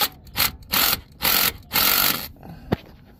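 A power tool gun works on bolts of a 1997 Toyota Tacoma 3.4L alternator, giving five close whirring bursts of about a third of a second each, with short pauses between, then a sharp click.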